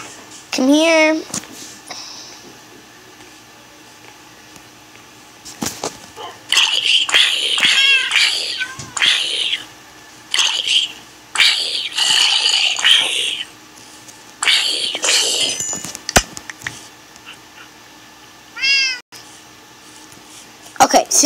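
A cat meows in the video game Alex's World. A clear, rising and falling meow comes near the start and another near the end, with a person talking and whispering loudly in between.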